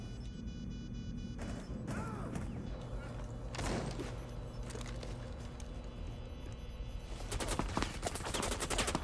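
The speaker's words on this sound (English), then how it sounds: "From the wall is where you're getting shot at, my dude" Gunfire in Rainbow Six Siege: bursts of rapid shots and sharp impacts cut through a steady background of game ambience, loud and close.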